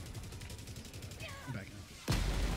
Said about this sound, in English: You are in range of enemy artillery.